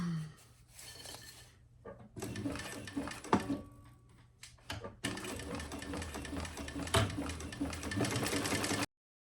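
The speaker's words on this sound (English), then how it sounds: "I'm going to decrease my stitch length just a little." A sewing machine stitches a diaper backpack in several bursts of rapid mechanical whirring, separated by brief pauses and fabric handling clatter, heard up close and moderately quiet.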